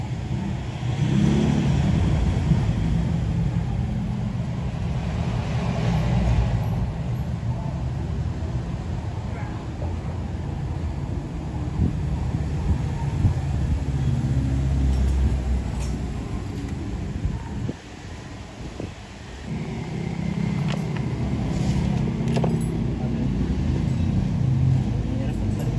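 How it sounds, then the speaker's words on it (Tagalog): Steady, loud mechanical drone from a Toyota Revo with its air conditioning compressor making noise, heard close up from an idling engine bay with continuous low rumble and occasional faint background voices. "Pero yung compressor, kuya, parang may ingay."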